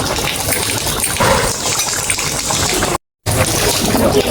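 Water poured into a pot of chili curry in a home kitchen, a steady splashing and trickling pour with a brief break partway through, heard close with no talk.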